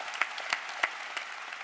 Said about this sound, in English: Give yourselves some applause.